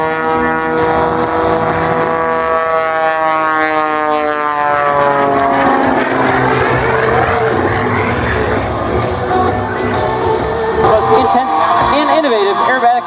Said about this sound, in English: Now watch the airplane as we go nose over tail and wingtip over wingtip.